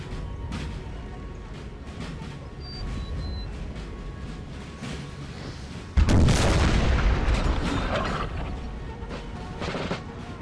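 An artillery piece firing in Napoleon Total War during a 4v4 battle, a single heavy boom that rings out and decays over several seconds, preceded by faint scattered battlefield pops and small-arms crackle.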